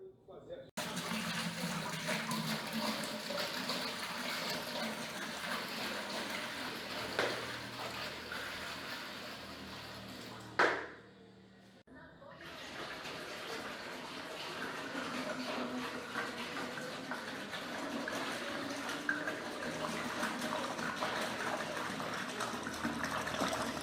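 Water gushes steadily into a vessel while brewing an Extra Strong Bitter at home, a continuous splashing pour with one brief break midway.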